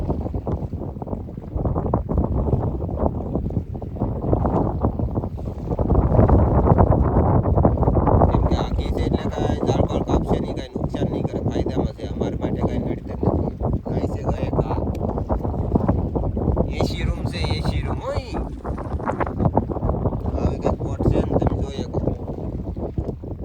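A fishing boat's engine drones steadily at sea at night, buffeted by wind noise across the microphone, and there is occasional indistinct talk nearby.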